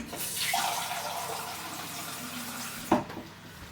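Liquid, about two cups, pours into an 8 litre electric pressure cooker in a kitchen, a steady splashing flow lasting a few seconds, followed by a sharp clunk near the end.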